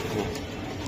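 Pigeons coo softly at close range, a steady low murmur of bird calls running through the whole second with no talk over it.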